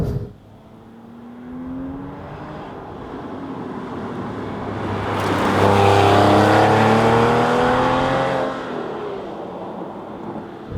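A Porsche 996 Carrera 4S exhaust with a welded-in bypass pipe growls as the engine revs rise, swelling to a loud, fruity roar in the middle before easing back down.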